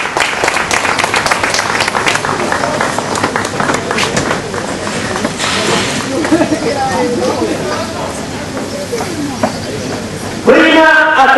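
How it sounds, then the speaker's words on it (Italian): Crowd applause at a women's elite cycling award ceremony in Trentino, sustained clapping mixed with chatter and voices that thins out toward the end, followed by a brief louder burst. "il vostro applauso per Eleonora Patuzzo"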